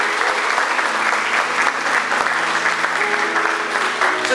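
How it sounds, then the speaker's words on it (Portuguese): A church congregation applauds during a sermon, a continuous full wash of clapping from many hands that holds steady and loud throughout. "Você pode aplaudir o nome do Senhor."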